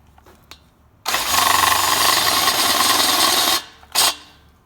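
A power drill bores out a part in the valley of an LS engine during a DOD/AFM delete, whirring loudly and steadily for about two and a half seconds, then a short second burst after a pause.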